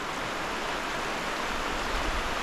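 Cascade Creek near Milford Sound flows in a steady, dense rush of water, loud and continuous with no breaks and no voices.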